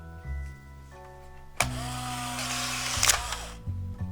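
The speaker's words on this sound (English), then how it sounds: "the camera will automatically expel the dark slide" A Polaroid Spirit 600 CL instant camera motor-ejecting the dark slide after a film cartridge is loaded: a sudden close whir of about two seconds that rises and then cuts off, over a low background hum with faint tonal notes.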